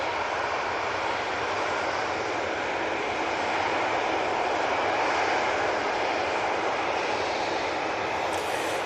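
Boeing 787-8 Dreamliner departing Manchester Airport for Paphos, a constant broad jet roar holding strong and even, with no voices over it.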